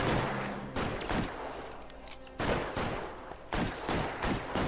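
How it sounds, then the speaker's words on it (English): Gunfire in the detective game L.A. Noire comes in heavy, booming bursts, several loud shots spaced a second or so apart over a dense, rumbling background. "Где он стреляет, не понимаю."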